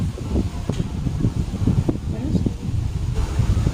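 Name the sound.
strong wind blowing before a rainstorm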